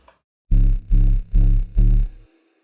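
A distorted wub bass synth made in Serum, starting from a sine wave with heavy LFO modulation, pulses four times in a steady rhythm, heavy and growling, then fades out quickly.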